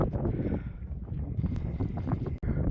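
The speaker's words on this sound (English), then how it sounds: "Still a little bit windy" Steady wind in Afghanistan rumbles and buffets against the microphone, a dense low roar with a brief dropout near the end.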